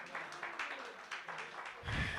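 An audience at an evening church service claps for the students, a scattered round of applause with uneven bursts over a few seconds, fairly faint and distant, with a low thump near the end.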